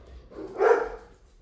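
A single bark or yelp from a house dog rises and fades in about half a second, fairly close, over a quiet indoor room with no talking.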